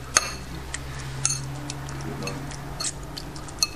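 Spoon or utensil stirring curry powder and black pepper into a dish, with a few light clinks and taps against the bowl over a low steady hum.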